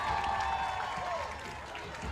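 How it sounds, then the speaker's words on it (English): A home crowd at an Attica high school football game cheers and applauds from a distance, with a steady roar under faint voices. "listen to this Attica crowd. They're not ready to give up yet"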